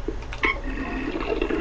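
A toilet flush in the video game Monster House, a steady watery rush with a few clicks and gurgles, fairly loud and continuous, with no talking over it.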